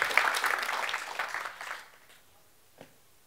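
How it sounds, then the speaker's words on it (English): An audience applauds a woman named Beth as she is welcomed to give a talk on mentoring: a burst of moderate clapping that thins out after under two seconds, leaving quiet room tone and one faint tap. "And give her a round of applause."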